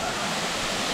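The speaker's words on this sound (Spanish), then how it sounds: "estas son las famosas cascadas de Marinka en Minca Magdalena, como a media hora de Santa Marta" The Marinka waterfalls in Minca, Magdalena, Colombia, near Santa Marta, pour in a steady, loud, broadband rush of falling water with no pauses.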